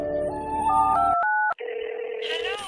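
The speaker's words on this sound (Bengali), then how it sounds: "একটা কাজ কর, গার্লফ্রেন্ডকে ফোন কর তো" A telephone being dialed gives a quick run of keypad tones in steady steps, then a brief gap and a sustained ringing or connecting tone, loud and close with no talking.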